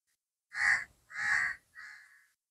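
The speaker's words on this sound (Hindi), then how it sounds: "परिंदों की चहकारें" Birds call in a dense forest with tall mud mounds: three harsh, loud, caw-like cries follow one another, the last one shorter and fainter, with no speech.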